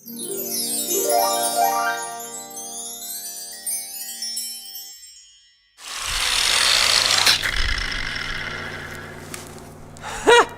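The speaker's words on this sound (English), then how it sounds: "maybe an angle grinder could just cut that." An angle grinder cuts into an electrical transformer: after a stretch of unrelated sweeping tones, a loud, harsh, continuous grinding rasp runs for several seconds up close, with brief breaks and a sharp bump at the end.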